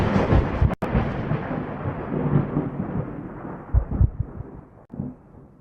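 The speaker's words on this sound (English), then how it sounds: "The storm is coming." Rolling thunder rumbles through a video game trailer, a loud, sustained storm roar with a sharp crack near the start and further swells toward the end, no voices over it.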